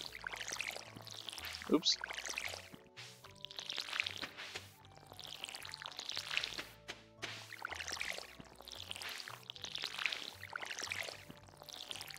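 A watering can pours over crops in the Stardew Valley farming game, giving a soft repeated splashing that sits under steady game music, with one brief spoken exclamation.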